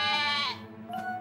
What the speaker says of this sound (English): Sam did say something about runaway sheep.